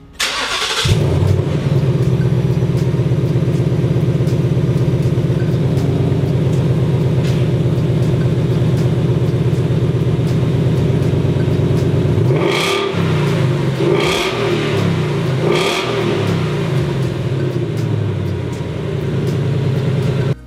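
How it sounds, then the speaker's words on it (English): A Ford Mustang S550 on its stock exhaust starts up and settles into a loud, close steady idle, then gets three sharp throttle blips in quick succession before dropping back to idle. "I'm gonna do a stock exhaust clip."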